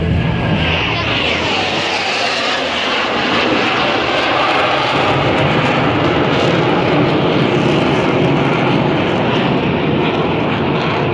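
Jet aircraft at an air show perform brake turns overhead, a loud, continuous engine roar and rumble that stays steady and close throughout, with no voices on top.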